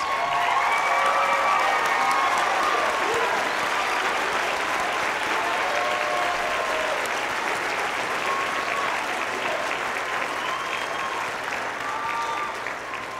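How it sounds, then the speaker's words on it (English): Graduation audience applauding honor students of a Phi Theta Kappa chapter, a dense, steady wash of clapping that carries on throughout, with faint crowd voices mixed in. "please stand for a special round of applause"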